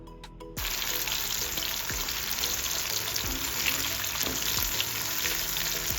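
Fish pieces marinated in masala fry in hot oil in a pan, a steady loud sizzle starting abruptly after a brief quieter moment, with soft stirring or scraping touches throughout.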